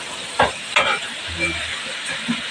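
Ingredients are stirred in a pan for Filipino ka botchog cooking, giving a few scraping strokes and a brief low rumble over a steady background sizzle.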